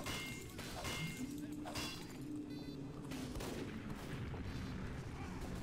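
Rapid gunfire and missile blasts from a sentry turret in the game Team Fortress 2, a dense continuous barrage of crackling shots and booms throughout.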